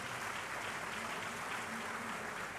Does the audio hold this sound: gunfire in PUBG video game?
no